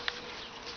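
Bees buzz around a blooming double-flowered weeping peach tree, a soft steady hum with one brief close buzz near the start, faint and outdoors.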